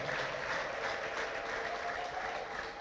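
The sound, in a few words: church congregation applause and ululation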